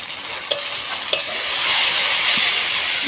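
Masala with turmeric and chilli powder fries loudly in a pan for a fish curry, a steady close sizzle with two sharp spatula clanks early on, then the hiss swelling a little.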